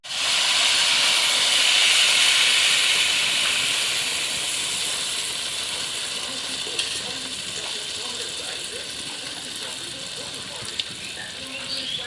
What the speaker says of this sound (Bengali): পিঠা ভাজতে ভাসতে বৃষ্টিও এসে গেল এসে গেল জল পড়ে